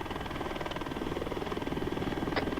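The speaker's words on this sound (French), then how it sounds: "il y a un hélicoptère 50 mètres encore plus au nord" Helicopter in the military video game ArmA 3, its rotor thumping in a steady rapid pulse over a low engine drone, fairly loud and continuous, with no voices over it.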